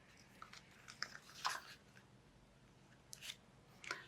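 Scissors cut paper for a spring scrapbook mini album with a few faint, quiet snips spread over several seconds, each a short crisp click against near silence.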